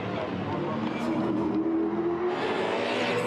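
A race car's engine roars steadily on track, a loud continuous drone that swells toward the end, with a voice talking over it.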